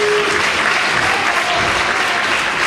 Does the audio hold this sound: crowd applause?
yes